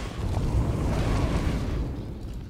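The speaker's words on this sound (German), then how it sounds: "Ich würde den dann ganz hinten gerne zum Explodieren bringen." An explosion in the video game Star Wars: The Old Republic makes a dense, rumbling roar that swells and then slowly fades over a couple of seconds, with no voices over it.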